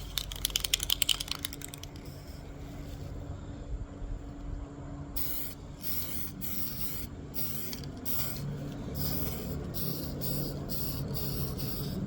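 Duplicolor anodized spray paint hisses from an aerosol can in bursts onto a Jackson JS22 guitar body, repeated short sprays outdoors with some wind, after a brief stretch of clicking at the start.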